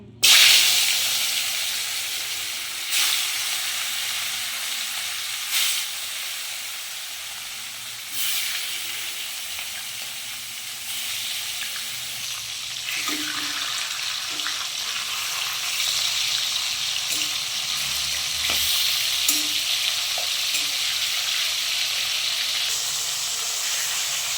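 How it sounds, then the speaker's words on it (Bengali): Pieces of rohu fish frying in hot oil give a loud, continuous hiss and sizzle that rises and holds steady, with a few sharp spatters near the pan and no voices. "তেলটা আমার ভালোভাবে গরম হয়ে গেছে এবার মাছগুলো দিয়ে দেবো"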